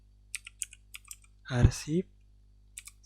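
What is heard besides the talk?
typing a letter number on a computer keyboard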